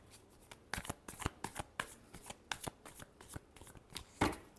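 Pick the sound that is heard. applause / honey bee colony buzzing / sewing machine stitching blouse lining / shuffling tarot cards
shuffling tarot cards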